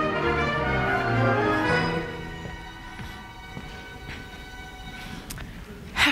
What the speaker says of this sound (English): The Yonkers train is ready to leave